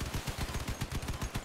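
Rapid, steady bursts of machine gun fire from the vehicle combat game Crossout, loud and close, with rounds rattling in a continuous rhythm and no talk over them.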